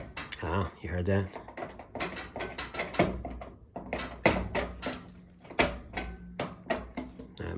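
A GE dryer's timer mechanism, freshly lubricated with WD-40, is worked by hand and gives off a busy run of close clicks and ratcheting snaps, with a voice briefly heard among them.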